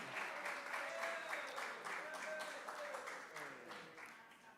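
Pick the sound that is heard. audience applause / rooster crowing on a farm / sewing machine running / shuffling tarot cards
audience applause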